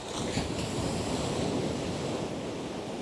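Ocean waves wash onto an empty beach in Perth early in the morning, a steady broad roar of surf with some wind noise, no voices.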